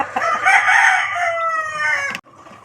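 A rooster crows close and loud in a backyard where young chicks are kept, one long drawn-out call lasting about two seconds before cutting off to quiet clucking background.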